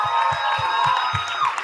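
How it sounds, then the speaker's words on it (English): Hall audience cheering at a women's event, a dense wash of crowd noise with a rhythmic low thump pulsing underneath, loud and continuous throughout. "Can we have a huge round of applause?"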